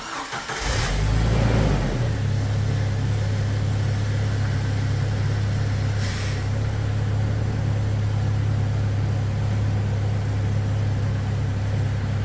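A Jeep TJ engine cranks and catches with a short rev, then settles into a steady, loud idle that drones on alone.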